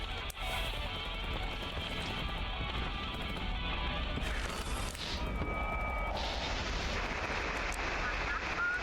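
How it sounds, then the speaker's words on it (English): In the horror video game Static Dread, a steady roar of artillery fire and explosions fills the air with dense, continuous rumbling and crackling. Shifting bursts and debris-like rattles sit on top, and nothing quiets for the whole stretch. "While artillery is firing, there are occurrences of secondary explosions and falling debris."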